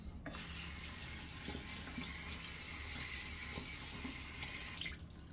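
A bathroom tap runs water steadily during a wet shave with shaving soap, a constant close splashing hiss that fills the whole stretch with no talking.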